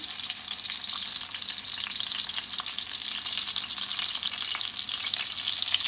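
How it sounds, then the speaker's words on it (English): Fresh garden vegetables frying in a pan for kaloungy, a dense continuous close sizzle and crackle with light popping, steady and loud. "So I'm gonna fry these back a little, and then I'm gonna fry them on the side."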